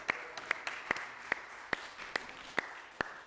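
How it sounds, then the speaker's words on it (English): A small church congregation gives sparse applause for a scripture reader, only a few distinct, evenly spaced claps ringing in a quiet sanctuary. "Can we give Lane a round of applause?"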